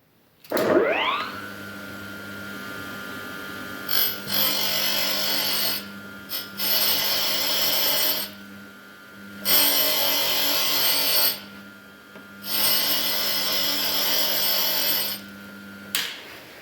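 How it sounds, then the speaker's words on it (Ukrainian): Rhythmic abrasive rubbing as a sharpening stone is flattened on a flat surface, steady strokes in several long bursts separated by brief pauses, close and fairly loud. "Перед шліфуванням бокових частин виправляю камінця."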